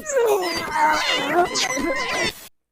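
A cat meows in a series of drawn-out, wavering cries, loud and close, with no pauses between them.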